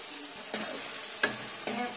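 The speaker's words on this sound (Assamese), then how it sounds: "আদা নহৰু পেষ্ট দি মেলি এনেকৈ ভাজি আছোঁ অলপমান দেৰি" Onion, tomato, bay leaf and ginger-garlic paste fry quietly in a pan, giving a soft sizzle broken by three distinct scraping spatula strokes.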